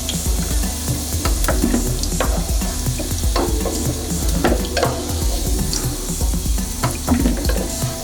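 Potato pieces fry in hot oil for biryani and are lifted out, giving a steady close sizzle broken by repeated scraping and metallic clinks of a spoon or slotted ladle against the pan.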